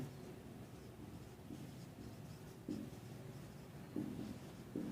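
Handwriting of a math equation, likely pen or marker strokes on paper or board, a steady soft scratching running throughout with a few slightly louder taps near the end, close and alone without talk.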